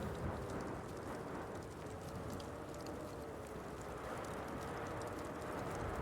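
Steady rain and rumbling storm ambience from the video game Pig Detective, a continuous wash of rainfall with low thunder underneath, even and unbroken throughout, no voices.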